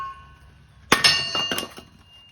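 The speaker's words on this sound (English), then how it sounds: "Just letting the hammer fall." A sharp metallic clang of a hammer striking a Vevor kindling splitter wedge, followed by a few quick ringing knocks as twisty wood gives way, close and loud.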